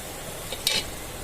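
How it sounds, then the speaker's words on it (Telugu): A pot of tamarind broth with coriander simmers and bubbles on a stove for bendakaya pulusu, a soft steady sizzle with a brief brighter hiss near the middle, close by and with no talk. "ఆ చింతపండు పులుసు ఉడుకుతూ ఉంటుంది"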